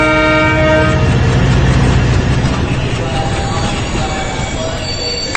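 A passenger train sets off from Kalyan station, steady rolling rumble and rail noise with sustained tonal whine and horn-like tones, loud and close throughout.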